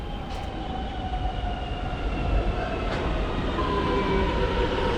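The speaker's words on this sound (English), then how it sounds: "This is the wrong train, so we gotta wait for the other one." Train at North Richmond Station in Melbourne, a steady loud rumble of rail transport with faint wheel squeal tones and light clatter, continuous and close throughout.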